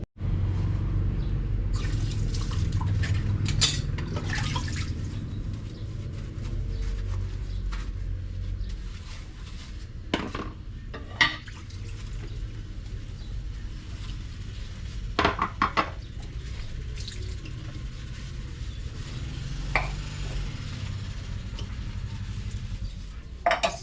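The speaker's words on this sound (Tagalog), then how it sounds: "maghugas muna ako ng pinggan" Dishes and cutlery clink and clatter intermittently over a steady wash of running water, close by, with occasional sharper knocks.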